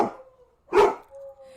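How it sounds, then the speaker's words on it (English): Dogs give short barking yelps and a brief howl-like whine, close and fairly loud, in a quick burst lasting under two seconds with no talking. "My god, they're howling."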